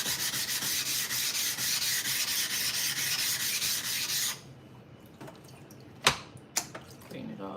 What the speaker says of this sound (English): I'm gonna go ahead and give it a scrape.